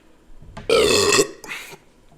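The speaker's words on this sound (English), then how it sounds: "I can burp too." A loud, drawn-out burp from a person, rising abruptly and rumbling for about half a second, followed by a shorter, softer second belch.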